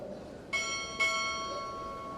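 At a Navy chief petty officer pinning ceremony, a ship's bell is struck twice in close succession, two clear, bright metallic rings about half a second apart that hang and fade in a quiet hall.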